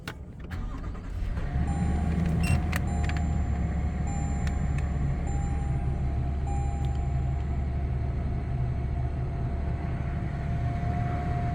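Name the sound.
2022 Toyota Tundra TRD engine push-button start-up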